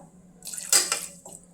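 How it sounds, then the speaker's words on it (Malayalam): Water poured over potatoes in a pressure cooker, a brief splashing gush lasting under a second, close and alone, followed by a faint clink. "ചെറുതായിട്ടൊരു കിഴങ്ങൊക്കെ ഒന്ന് മുങ്ങി കിടക്കുന്ന രീതിയിൽ വെള്ളം ഒഴിച്ചാൽ മതി."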